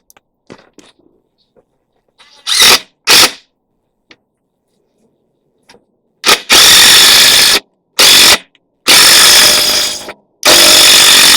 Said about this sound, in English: So whenever you're drilling, I always will drill in